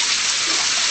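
Water runs steadily and loudly from a tap while a Border Terrier is bathed, a continuous splashing rush with no pauses.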